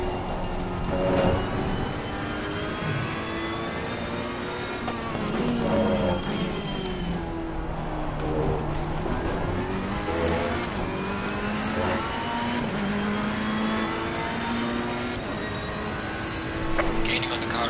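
A race car in Assetto Corsa Competizione works through the corkscrew at Laguna Seca, its engine note rising and falling steadily through the shifts, loud and close throughout with a voice talking over it.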